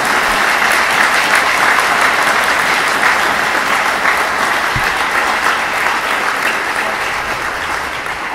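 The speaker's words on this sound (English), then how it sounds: "get a round of applause and support." Sustained audience applause at a community conversation on race and policing, dense and loud clapping filling the hall throughout, gradually easing toward the end with no speech.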